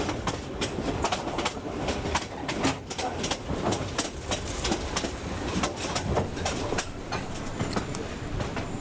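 A passenger train rolling along a Myanmar railway line, wheels clicking over rail joints in a steady irregular clatter, carriages rattling close by, with faint birdsong in the background.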